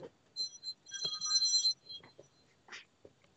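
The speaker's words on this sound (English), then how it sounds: "there's my phone" A mobile phone rings during an interview, with a faint electronic ringtone of brief warbling bursts followed by a longer sustained trill, then soft scattered noises.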